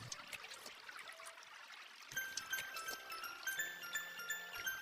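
Gentle river water flowing and trickling nearby in a cartoon scene, faint and steady with light tinkling splashes, no talking.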